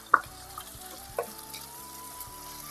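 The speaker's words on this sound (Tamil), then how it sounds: "தக்காளி நல்லா மசிஞ்சு வர்ற வரைக்கும் நல்லா வதக்கி விட்டுக்கலாம்" Onion, ginger-garlic paste and tomato sautéing in a pan for vada curry, with a spatula clinking and scraping twice over a faint, steady sizzle.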